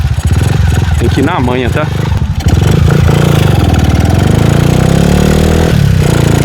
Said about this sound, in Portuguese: Ó, a gente acelerar aqui, ó, demais, ela empina, cara.